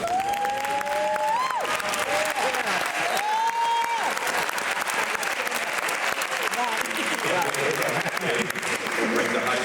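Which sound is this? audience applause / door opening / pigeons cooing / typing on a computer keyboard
audience applause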